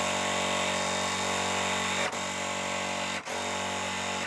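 A sewing machine runs continuously and close up while stitching a fabric strip onto a quilt block, its steady mechanical whir broken by two brief pauses.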